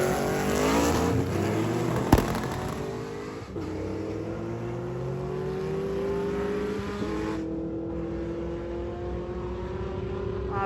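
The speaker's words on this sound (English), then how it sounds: "I love Dodge Vipers, and to see one out here" A Dodge Viper accelerates hard nearby on a race pass, engine pitch climbing steadily through gears with a loud, sustained roar, one sharp pop partway through.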